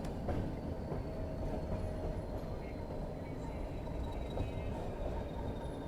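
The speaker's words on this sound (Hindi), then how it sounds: "यहाँ पे अपनी ट्रेन काफ़ी देर रुकने वाली, क्योंकि यहाँ पे क्रॉसिंग होने वाली है" Nilgiri Mountain Railway toy train on the Ooty line, halted at a small station for a crossing, giving a steady low rumble with faint distant clatter throughout, no distinct arrival sounds.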